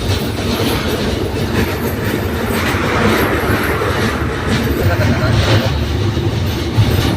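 A train rolls slowly across the Jamuna bridge in Bangladesh, giving a loud, steady rumble and clatter of wheels that lasts the whole stretch without a break.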